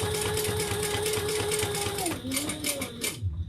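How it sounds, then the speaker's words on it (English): Sewing machine stitching around the outside edge of a leather Stockholm bag, a steady continuous mechanical whir with a rapid stitching rhythm, close and fairly loud, slowing and changing pitch near the end. "I'm going to stitch around the outside."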